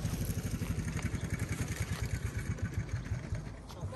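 An old motorcycle that belonged to the speaker's grandfather runs steadily nearby, a low chugging engine pulse with a loose clattery edge, holding an even rhythm throughout.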